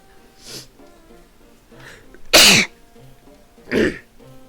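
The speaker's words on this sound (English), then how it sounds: "I'm going to sneeze." A single loud, sharp sneeze bursts out amid quiet breathing and soft vocal sounds, followed by another short exhale.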